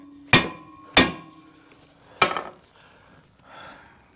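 Three sharp metallic hammer strikes on a part of a Frick sawmill, two close together and a third after a pause, each ringing briefly, followed by a faint scraping rustle; no talking.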